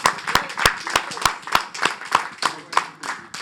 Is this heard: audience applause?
yes